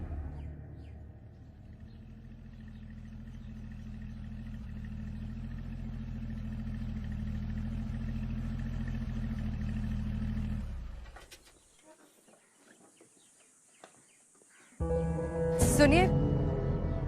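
A car engine rumbles low and steady for about ten seconds, fairly quiet, then cuts off abruptly before other louder sounds start.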